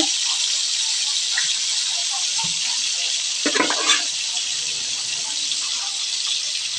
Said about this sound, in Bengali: অনেক তেল ছিটতেছে